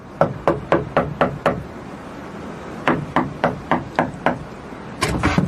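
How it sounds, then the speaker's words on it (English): Sharp knocks on a cottage door, staged as a radio drama effect: a quick series of six raps, a pause, then another run of six, loud and close. "went across to the cottage and knocked on the door"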